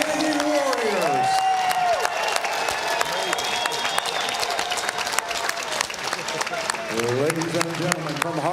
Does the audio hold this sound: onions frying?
no